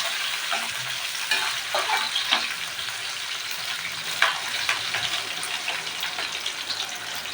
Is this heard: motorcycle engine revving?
no